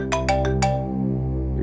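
Mobile phone ringtone in a tense police drama scene: four bright, tonal chime bursts in quick succession over a steady background hum, then a short fade, with no talking.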